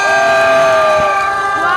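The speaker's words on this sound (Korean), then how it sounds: "다시 한번 큰 박수 부탁드리겠습니다" A loud, close crowd at a patriotic rally in Sanbon cheers and shouts in sustained, drawn-out voices, filling the whole short moment.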